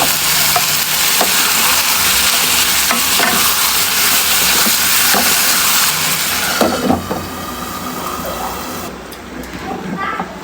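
Fish oil sizzles loudly and steadily in a hot pan for a Bengali fish-oil chachchari, close up and constant, with stirring scrapes running through it and the frying easing slightly toward the end.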